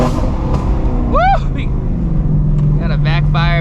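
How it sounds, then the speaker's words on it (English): Ford New Edge Mustang GT with a 700 hp build revs hard and pops a sharp backfire over the steady engine drone, while a person whoops loudly nearby. "Got a backfire, man."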